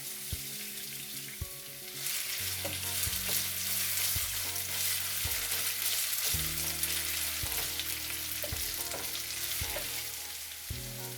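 Diced potato sizzles and crackles steadily in a hot pan for a potato omelet, with a few sharp clinks and scrapes of stirring.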